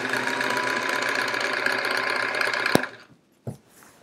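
A sewing machine stitching a quilt border runs in a fast, steady mechanical whir for nearly three seconds, then stops with a sharp click, followed by a brief second clunk.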